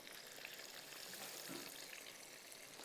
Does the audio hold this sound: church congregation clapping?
no